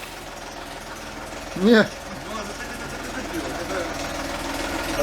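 An Audi A8 D3 engine idles with a steady, rapid diesel-like knocking and ticking, heard close, while a voice speaks a brief word.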